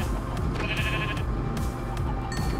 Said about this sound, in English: we're gonna kill the sheep.